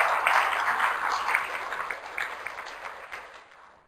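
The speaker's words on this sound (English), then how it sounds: "could we give our panelists a round of applause?" Applause from the audience at a public meeting, thanking the panelists; a brief round of clapping that starts full and steadily fades out over a few seconds.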